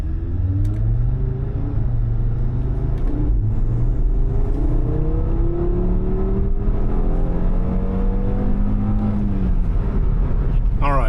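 An Audi RS3, stock pre-facelift with a custom tune, accelerates hard on an open road, its engine note rising steadily in pitch through the gears as a loud, continuous rumble from inside the car.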